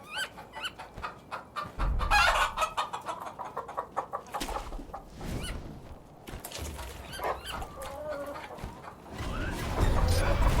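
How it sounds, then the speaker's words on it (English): Chicken noises played as a stream donation alert: loud, continuous clucking and squawking from fowl, with a crow-like call, all alone and up close. "You now get the joys of a minute's worth of chicken noises."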